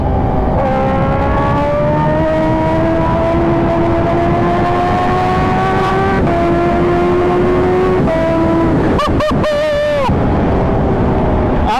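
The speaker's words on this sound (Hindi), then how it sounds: "एग्जैक्टली एक मंथ के बाद मैं आज H2R चला रहा हूँ" Kawasaki Ninja H2R motorcycle engine revving on the road, a loud, steady, high-pitched drone that rises and falls in pitch, with a brief burst of sharp changes near the end.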